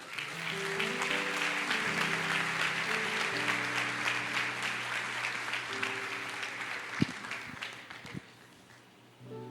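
A church congregation claps in praise, a broad sustained round of applause over sustained musical tones, thinning out near the end with a couple of sharper knocks.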